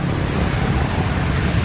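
An ALS 244 bus with a Rahayu Sentosa Jetliner body manoeuvres at a terminal, a steady, loud, low engine rumble mixed with traffic noise, continuous throughout.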